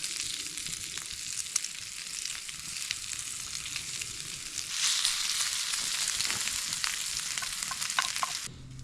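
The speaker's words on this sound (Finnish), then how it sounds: "Pistetään leipätaikina tuohon pannulle." Bread dough frying in a pan on a cold winter night outdoors, a steady close sizzle and crackle that swells louder partway through, with no voices.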